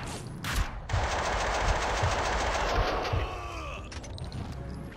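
Bursts of rapid automatic gunfire crack in Max Payne 2, a German-language game session, with repeated shots over several seconds, loud and close over game ambience and no speech.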